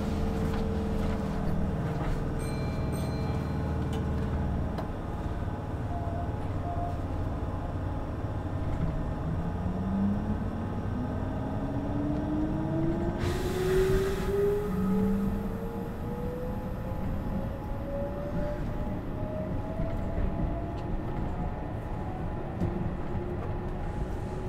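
A Meitetsu 1030 series limited express train runs from Toyohashi toward Gifu, heard from inside as a continuous low rumble with motor whine rising steadily in pitch as it accelerates, plus a brief hiss partway through.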